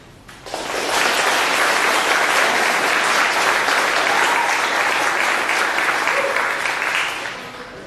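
A graduation ceremony crowd breaks into sustained applause for a graduate, a dense, loud wash of clapping that swells quickly, holds steady for several seconds and then tapers off.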